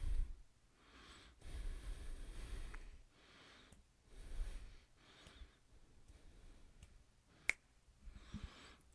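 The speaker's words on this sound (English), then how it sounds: "Who knew snapping my fingers could introduce a disc golf bag and change the camera angle?" A few sharp finger snaps ring out faintly and sparsely, the clearest a single crisp crack near the end, with soft breathing and rustle between.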